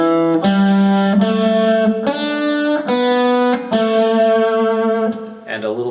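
Distorted electric guitar plays a slow rock lick in a beginner lesson, a handful of sustained notes, each ringing for close to a second, the last landing on A with wavering vibrato, loud and close with no talking.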